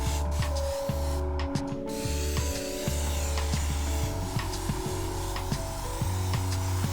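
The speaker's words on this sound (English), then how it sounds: "I'm going to open the airbrush back up and we're going to do a halo over that" An airbrush hisses paint in a soft continuous spray for a translucent skin effect, with a rhythmic mechanical hum and clicking from a compressor running close by, and no one talking.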